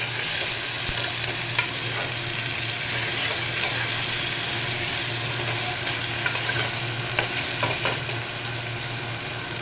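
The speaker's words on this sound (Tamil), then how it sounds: "ஒரு வெங்காயம் கருவேப்பிலை போடுறேன்." Onion and curry leaves frying in a pan after fennel seeds have crackled, giving a loud, steady sizzle with a constant hiss and occasional spoon clinks, close up and without talk.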